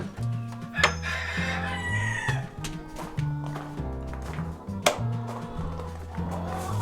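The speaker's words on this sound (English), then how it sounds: "Hello, chickens." Chickens on a farm with Rhode Island Red, Light Sussex and Black Leg coops: a rooster crows and hens cluck amid steady droning tones, with a few sharp knocks across the stretch.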